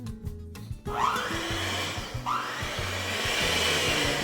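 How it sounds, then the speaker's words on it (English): An electric hand mixer whirs steadily while beating butter for an eggless, sugar-free rum cake, close and continuous, with a couple of brief pitch sweeps as the beaters shift and no talk. "Hand mixer. This thing will fly all over the place. You gotta take it slow."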